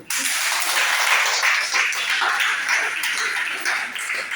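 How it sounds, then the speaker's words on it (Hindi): Audience applause, a dense steady wash of many hands clapping together, fairly loud and continuous, with a faint yelp-like sound mixed in. "जोरदार ताली"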